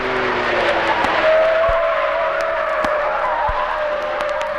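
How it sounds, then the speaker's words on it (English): A 1971 Holden car takes a tight turn, its tyres giving off a steady, drawn-out whine over the engine hum, with a few sharp knocks heard close by. "The suspension's firm, steering is light and positive, but those standard tyres are just a little noisy."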